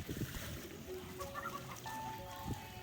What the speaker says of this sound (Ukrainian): О, а тут уже й голуби.